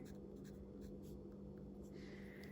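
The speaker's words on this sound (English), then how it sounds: "So I'll just write it up here." Quiet scratching strokes of a pen or pencil writing a measurement onto an MDF board, a few short scribbles close to the microphone over a low steady background hum.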